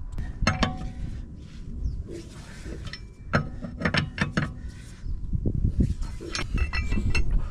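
Mechanical clanks, scrapes and ratcheting clicks from a car jack being closed and worked to lift a wheel, close and fairly loud, in bursts of sharp knocks over a steady rumble.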